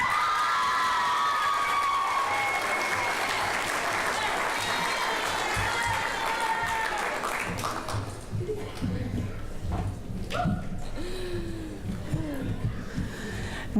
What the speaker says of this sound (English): And there's her cheering section back there.